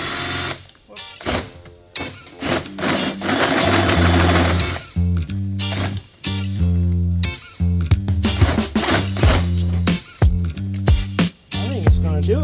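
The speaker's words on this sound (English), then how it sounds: "I'll just keep drilling that hole bigger and bigger" A hand drill bores a hole larger in metal on an LS-swapped Blazer project, a loud, close whirring that speeds up and bogs down in uneven bursts with short stops between runs.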